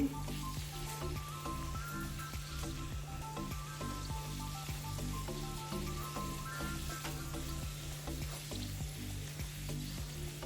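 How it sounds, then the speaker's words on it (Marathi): Pumpkin gharge puris fry in oil over medium heat, producing a faint, continuous bubbling sizzle with a low steady hum underneath and no voices. "नंतर मध्यम आचेवर आपल्याला या पुऱ्या तळून घ्यायच्यात"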